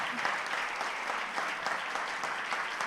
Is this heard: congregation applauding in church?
yes